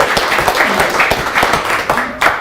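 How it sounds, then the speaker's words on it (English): A round of applause at a business sales meeting, a short burst of scattered clapping from a modest group with distinct individual claps standing out, fairly close. "Give him a round of applause."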